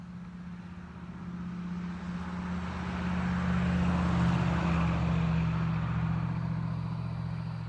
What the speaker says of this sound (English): You have all kind of people driving by